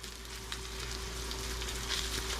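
Bacon frying in a pan alongside Brussels sprouts and mushrooms, a steady soft crackling sizzle with small pops, fairly quiet and continuous with no voices.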